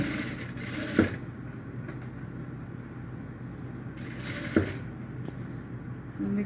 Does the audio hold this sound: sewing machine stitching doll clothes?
yes